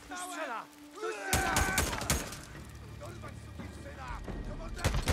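Gunfire in the Days Gone video game: a burst of several loud, sharp shots in quick succession, then scattered further shots, with game characters talking over the action.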